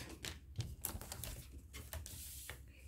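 Paper being cut for a scrapbooking box kit, a run of faint crisp snips and rustles with small clicks, close but quiet, no talking.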